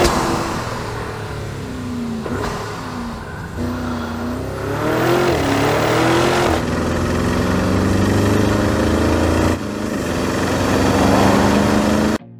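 2024 Porsche Cayenne Turbo GT with a 650-horsepower twin-turbocharged V8, revving and accelerating through rising gear pulls with brief shifts between them, loud and steady throughout.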